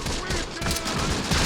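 Dense, rapid gunfire crackles in a tactical wargame set in an Italian desert stronghold assault, a continuous loud fusillade of overlapping shots.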